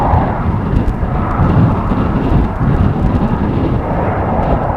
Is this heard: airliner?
yes